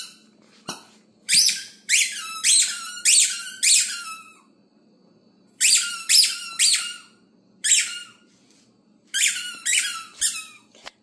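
A dog bites a squeaky toy over and over, sending out groups of sharp, close squeaks that come in rhythmic bursts and then break off into brief silences.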